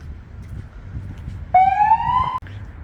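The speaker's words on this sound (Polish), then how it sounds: "policja na kogucie nas przestraszyła właśnie" Police car siren wailing as it passes on a street in Brzeg, a short rising electronic tone that bursts in loudly and cuts off abruptly over low background rumble, with no talking.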